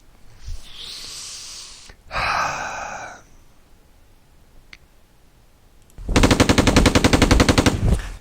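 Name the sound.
machine gun fire from ASL video game mod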